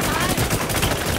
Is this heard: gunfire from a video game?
yes